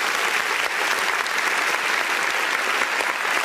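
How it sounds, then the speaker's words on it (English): An audience applauds steadily and densely throughout, a sustained wash of many hands clapping at even loudness with no break. "can you give him a round of applause?"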